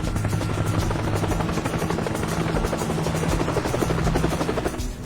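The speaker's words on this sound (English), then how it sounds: "I can hear a helicopter." A helicopter's steady rotor chop and engine buzz hold loud and continuous, drawing near through cloud during a rescue.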